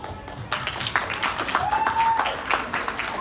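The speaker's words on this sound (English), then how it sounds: "I think all of us deserve a big applause" An audience claps steadily in a dense, continuous round of applause, with a faint voice and a brief tone underneath.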